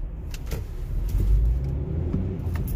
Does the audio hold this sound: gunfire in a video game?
no